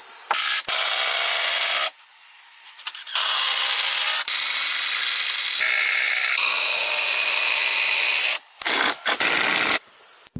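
Power drill whirring in long sustained bursts with brief pauses, driving screws into wooden wall frames of a traditional Japanese-style cabin, loud and close with some squealing friction.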